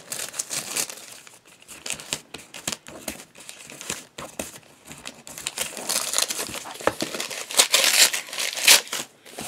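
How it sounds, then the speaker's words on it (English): Crinkly plastic wrapping from a package, including bubble wrap, being pulled open and crumpled at close range, with irregular bursts of rustling and crackling that grow louder and denser toward the end. "So let's unwrap it."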